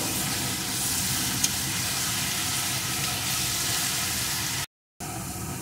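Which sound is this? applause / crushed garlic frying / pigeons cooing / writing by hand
crushed garlic frying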